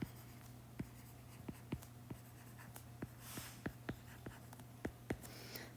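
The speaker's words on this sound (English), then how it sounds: "you got to write the formula" Pen or pencil writing out a math formula, a run of short sharp taps and scratches at uneven intervals over a steady low hum, close and fairly quiet, with no voices.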